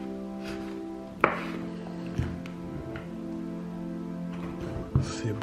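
A knife cuts smoked, dried veal breast pancetta into thin strips on a board, with a few sharp, separate taps and chops over a quiet humming room.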